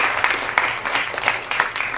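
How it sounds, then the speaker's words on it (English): A gathered audience gives a short, loose burst of clapping, uneven hand claps at close to moderate distance that fade within about two seconds. "So a round of applause for yourself for coming."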